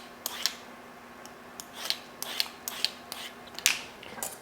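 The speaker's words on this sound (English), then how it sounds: "I'm gonna peel that real quick." A medium-sized carrot is peeled in a kitchen with a few quick, scraping strokes, each a short, crisp rasp at close range with gaps between.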